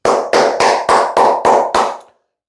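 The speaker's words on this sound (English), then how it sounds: "You know who I am gonna give a round of applause to?" Seven sharp bursts of hand clapping, evenly spaced about a third of a second apart, close and loud with no talk, then abrupt silence.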